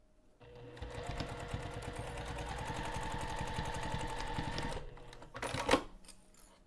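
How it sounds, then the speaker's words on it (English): A sewing machine stitches the side edges of a bag for several seconds with a fast mechanical rhythm, then stops, followed by a brief clatter of handling. "I'm going to take this over to the sewing machine, and we're just going to sew the side edges"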